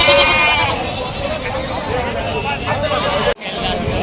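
Goats bleat repeatedly over a busy crowd of voices at a weekly village livestock market in Rajarampalli, with a steady hum of market chatter throughout.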